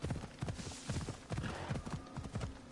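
A horse's hooves clip-clop in a quick, steady trotting rhythm in Assassin's Creed Odyssey, close and fairly quiet, with a short snort or whinny partway through.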